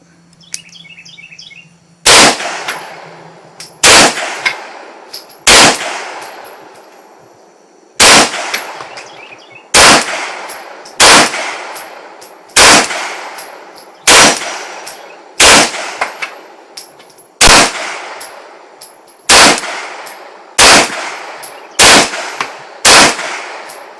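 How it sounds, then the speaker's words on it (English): Machine gun fire as a series of loud, sharp gunshot reports, each ringing out and decaying, spaced about one to two seconds apart over a quiet background, with no one speaking. "All right, Chuck, fire when ready."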